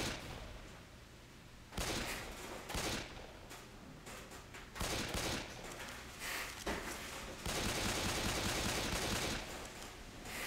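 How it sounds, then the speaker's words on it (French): Gunfire aimed at zombies in Left 4 Dead 2 Versus mode: loud bursts of automatic fire come in repeated volleys, then a sustained heavy barrage toward the end, with almost no talking. "Oh, mais je tire dessus là."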